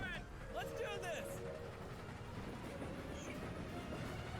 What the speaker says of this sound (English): The train's coming!